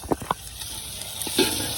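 Ginger garlic paste stirred in a frying pan on a rooftop cooking setup, with a few short scraping stirs over a steady background sizzle.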